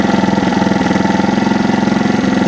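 Honda TLR trials motorcycle engine running steadily near the microphone, a loud, even single-cylinder thrum with a rapid regular pulse throughout and no talking.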